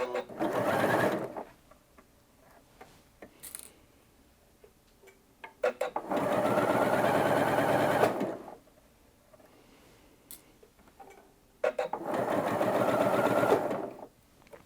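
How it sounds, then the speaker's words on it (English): A Janome Atelier 6 sewing machine stitches two layers of striped fabric in three steady running bursts of about two seconds each, loud and close, separated by quiet pauses. "So let's go ahead and stitch this stripy fabric."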